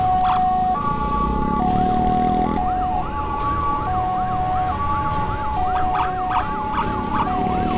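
A loud ambulance siren wails in a repeating two-tone pattern as the ambulance is escorted from Pandega toward Bandung, with road and engine noise beneath it.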